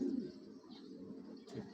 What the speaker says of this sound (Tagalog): Ibon no, mga kalapatid to.